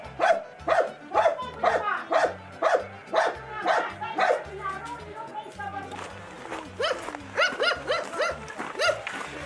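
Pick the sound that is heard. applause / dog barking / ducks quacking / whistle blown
dog barking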